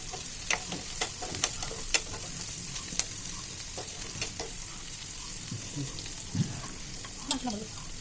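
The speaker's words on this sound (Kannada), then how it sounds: "ಮೆಣಸಿನ್ಕಾಯಿ ಹಾಕ್ಕೊಂಡ್ಬಿಟ್ಟು ಆಗಲೂ ಕೂಡ ಸ್ವಲ್ಪ ಫ್ರೈ ಮಾಡ್ಕೋಬೇಕು" Chopped green chillies frying in oil in a pan for North Karnataka-style uppittu, a steady sizzle broken by repeated sharp scrapes and clinks of a spoon stirring, close and fairly loud, with no talking.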